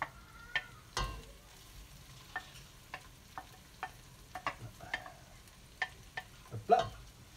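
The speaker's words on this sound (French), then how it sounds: "Ensuite, je rajoute toutes les carcasses des crevettes." Shallots and shrimp carcasses cooking in a pan: faint sizzling underneath, punctuated by irregular clicks and scrapes of a utensil stirring against the pan, with one louder clatter near the end.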